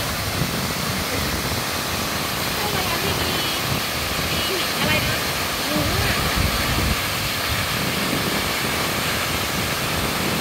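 Waterfall in Sekong, southern Laos, a steady broadband rush of falling water heard close and loud, with faint voices buried underneath.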